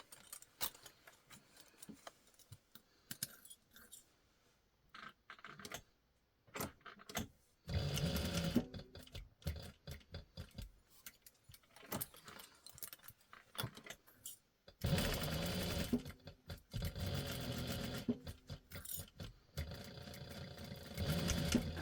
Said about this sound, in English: I'm gonna backstitch a tiny bit at these corners